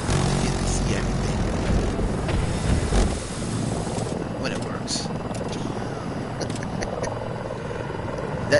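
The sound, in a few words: helicopter in video game Battlefield 2042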